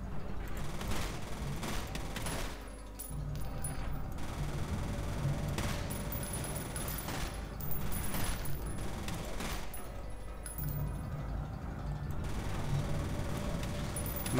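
Machine-gun fire in the first-person shooter F.E.A.R.: sustained rapid bursts of gunfire run on and off throughout, with brief lulls between volleys.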